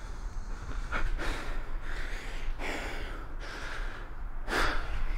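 Heavy, labored breathing after squats in a gym, with several loud gasping inhales and exhales at an uneven rhythm, close to the microphone, no talk.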